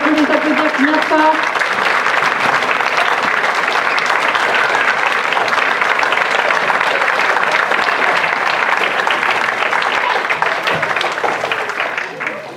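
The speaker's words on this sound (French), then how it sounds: "On peut les applaudir bien fort" Loud, sustained applause from a concert audience for a violin and piano ensemble, a steady dense roar of many hands holding for over twelve seconds before tapering at the end.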